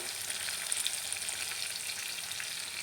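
Carrot and beetroot chutney ingredients fry in a pan with turmeric, giving a steady, even sizzling hiss with faint crackles, close and moderately quiet, with no voices.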